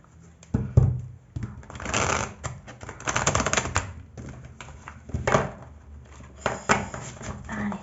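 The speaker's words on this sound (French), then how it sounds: "Allez, je vais bien mélanger les cartes." Tarot cards shuffled by hand, a series of irregular papery riffles and taps in close bursts, fairly loud and near, with no talking.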